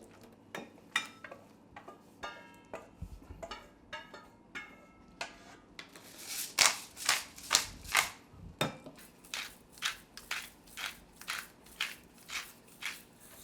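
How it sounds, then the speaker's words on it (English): A wooden spatula presses wet cooked spinach to squeeze out excess moisture, giving a series of soft, rhythmic crunching squelches that repeat steadily and close up, with no talking. "with this wooden paddle here, spatula, I'm just squeezing out all the excess moisture out of the spinach"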